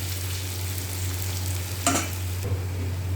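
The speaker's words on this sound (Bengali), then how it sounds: "তো পেঁয়াজটা ভাজা হতে থাকো, লালচে লালচে ভাজা হয়ে গেলে তারপরে বাকি মশলাগুলো এর মধ্যে একবারে দিয়ে দেব" Onions frying in a pan, a soft continuous sizzle over a low steady hum, with a brief scrape or stir near the middle; no talking.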